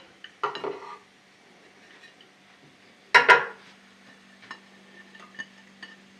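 Cookware clatters as garlic is added to a pan of browned onions for a mushroom sauce, two sharp bursts of metal clinking and scraping, then lighter taps over a faint low hum.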